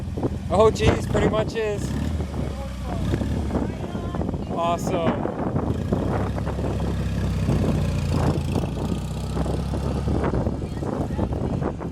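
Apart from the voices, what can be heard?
motorcycle-like engine running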